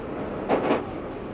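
A London Underground Northern Line train pulls into a platform, heard as a brief burst of rushing, clattering noise over a steady low rumble, two quick surges within a second.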